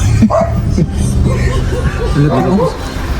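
Stray dogs bark and yip near a beach road in Bauang, La Union, heard under loud, nearby talk and a noisy background.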